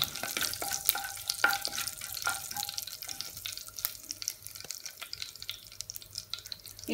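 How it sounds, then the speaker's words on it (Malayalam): Fennel seeds, cardamom, cinnamon and cloves frying in hot coconut oil for green chicken curry, giving a close crackling sizzle broken by frequent sharp clicks and scrapes of stirring. "എണ്ണ ചൂടാവുമ്പോൾ ഇതിലേക്ക് പെരിഞ്ജീരകം, ഏലക്ക, പട്ട, ഗ്രാമ്പു എല്ലാം കൂടി ഇട്ട് ഒന്ന് നന്നായിട്ട് മിക്സ് ചെയ്ത് കൊടുക്കാം"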